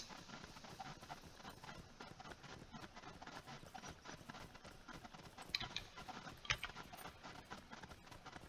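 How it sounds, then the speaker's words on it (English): Horse hooves clip-clop in a video game set in the Shire, a quiet, steady rhythmic trot with faint mechanical clicks and a couple of sharper knocks. "then hop on the horse."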